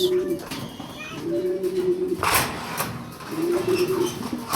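Grizzle racing pigeons cooing in a loft, repeated low throaty coos close by in several bouts, with a person talking over them and some shuffling noises.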